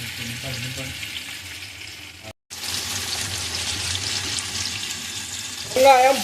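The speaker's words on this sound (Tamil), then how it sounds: "இப்போ இந்த வெங்காயம்" Onions frying and being stirred in a pan for mixed biryani, a steady crackling sizzle that continues throughout, with a brief dropout near the middle and some faint background voice.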